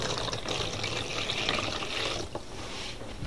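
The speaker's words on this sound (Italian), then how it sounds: "Adesso prendo questa vaschetta qui, verso dell'acqua." Water poured into a shallow tray while making homemade recycled paper, a steady splashing trickle that runs continuously and eases off near the end, close and clear with no talk.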